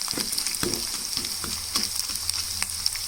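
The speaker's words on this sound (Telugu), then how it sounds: "కొంచెం ఈ విధంగా పప్పును కూడా వేయించేసుకుంటే సరిపోతుంది" Lentils (dal) fry in a pan over a medium flame for a mango pulihora, giving a steady close sizzle broken by repeated scraping stirs.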